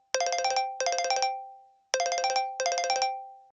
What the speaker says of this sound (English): The physician receives an audible alert or vibration on their phone